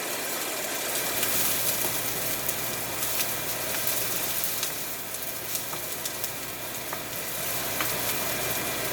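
Rough-cut shallots sizzle in a hot pan as they are stirred in for home-style Hainanese chicken rice, giving a steady, crackling fry with occasional sharp pops and a low hum beneath.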